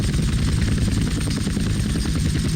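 A helicopter in the video game GTA San Andreas drones with a loud, steady rotor chop that pulses rapidly and continuously throughout, close and alone with no voices.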